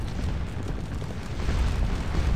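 Massed Napoleonic cannon fire on the Waterloo battlefield in a strategy game, a dense, continuous low rumble of overlapping booms that swells slightly toward the end, with no distinct single shots.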